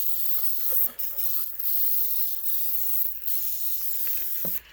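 Repeated short blasts of aerosol oil spray hiss close by onto a seized lever of an old 12-ton jack, several bursts in a row separated by brief pauses.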